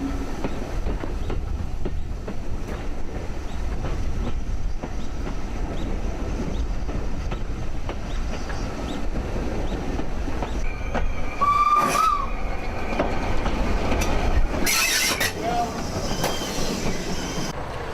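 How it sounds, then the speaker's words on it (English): Strathspey Railway steam train running tender first back toward Aviemore, with a steady rolling rumble and rail clatter throughout and a brief louder, higher burst near the end. "The locomotive couples off, reverses, and the train travels back to Aviemore, tender first."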